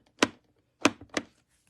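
A rubber stamp pressed down onto a cushioning mat gives three sharp, close thumps. The first stands alone, and the last two follow in quick succession. There is no talk.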